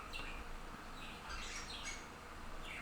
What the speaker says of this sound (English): That's Boo-Boo, the yellow parakeet back there.